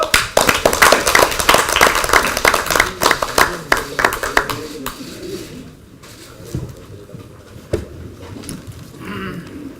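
Members at a party caucus meeting clap in a room, a busy patter of hands for about five seconds that then thins to a few scattered claps and quiet room noise.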